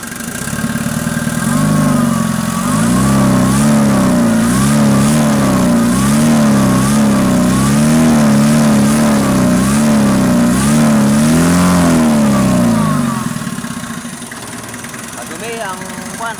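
A stock Mitsubishi Canter truck engine in an XLT runs loud and close, rising and falling in repeated revs over a rough idle, then dropping back to a quieter idle at the end.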